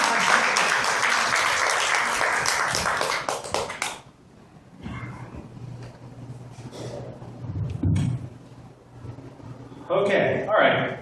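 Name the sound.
comedy club audience applause for a comedian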